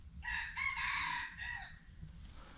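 A rooster crows once, a loud, close, drawn-out call lasting about two seconds, followed by quiet rural background.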